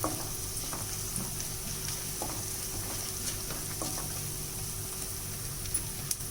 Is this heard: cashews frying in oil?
yes